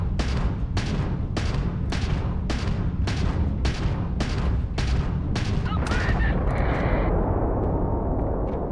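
Repeated gunfire in Starfield: about ten loud, evenly spaced shots over a constant heavy rumble, ending in a burst of crackling impacts.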